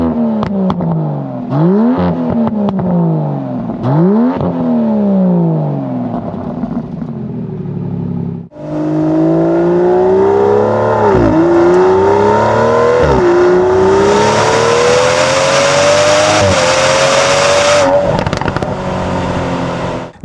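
Aston Martin DBS Superleggera V12 with optional titanium exhaust revving hard, loud and close, with several sharp blips rising and falling, then a longer sustained climb to a high wail before dropping off.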